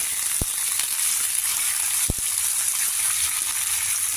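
Soft continuous sizzling of broad bean pieces frying in hot oil, with a couple of sharp knocks standing out against the steady crackle.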